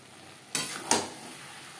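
Potatoes frying with spices and chili powder in a pan, two quick scraping stirs against a low background sizzle, close and fairly quiet.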